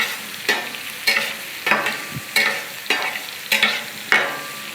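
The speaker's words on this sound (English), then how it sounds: "we want it to have a chance to brown a little bit" Steak browning on a Blackstone griddle, a continuous close sizzle broken by regular spatula scrapes about every half second, loud and alone without talk.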